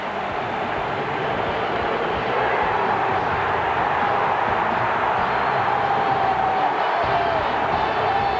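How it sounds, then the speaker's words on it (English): A big stadium crowd at a Cubs-Cardinals baseball game in the ninth inning gives off a loud, steady roar of cheering that swells slightly and holds for several seconds. "Listen to this crowd."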